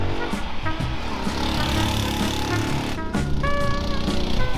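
The world's smallest car pulling away with a buzzing small engine that rises and falls as it revs, close and fairly loud, with a short break in the sound partway through.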